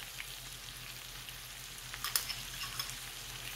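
Garlic sizzles in a hot pan for shrimp scampi, a steady close crackle and hiss with a few sharper pops toward the end and no voices.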